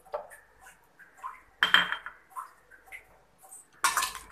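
Lemon juice being mixed into beach-style roasted peanuts in a bowl, with several light clinks and scrapes of a spoon against the bowl and a sharper rattle near the end. No talk.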